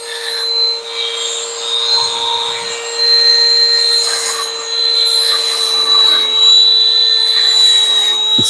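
A sanding drum grinding a custom knife, a steady high-pitched whirring grind with a constant motor tone running throughout, close and fairly loud, slightly surging in intensity.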